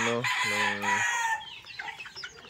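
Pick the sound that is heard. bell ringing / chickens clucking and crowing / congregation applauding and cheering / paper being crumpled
chickens clucking and crowing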